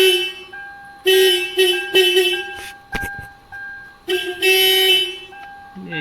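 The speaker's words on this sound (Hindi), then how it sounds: "अभी इसको टच करता हूँ, देखिए हॉर्न बजेगा।" Hyundai Accent horn sounding in short repeated honks during a wiring test on the fuse and relay circuit, loud and close, with a few breaks between bursts.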